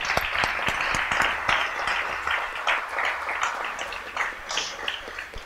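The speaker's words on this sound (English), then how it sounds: "We'd like to give a huge thank you and round of applause to all of them." Audience applause for the sponsors at the 2017 DoGood-er Awards, a steady crowd of many hands clapping at moderate distance, dense and continuous throughout with no talking over it.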